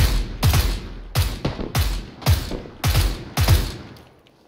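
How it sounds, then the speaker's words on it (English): SKS rifle fire in an online shooter game comes as about seven sharp, loud shots in an uneven rhythm, each with a short echoing tail, then fades to quiet. "Somebody with the SKS up in the hill."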